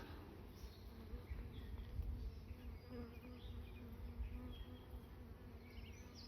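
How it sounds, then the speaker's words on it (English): A honey bee buzzes close around a person's head at a bee farm, a steady, faint droning hum with slight rises and falls, over quiet outdoor background. "Here's one just buzzing right around my side of my head."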